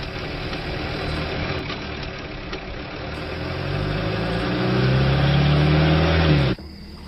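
A car engine idles steadily, its low rumble building slightly as it runs on, then cutting off abruptly near the end, with no talk over it.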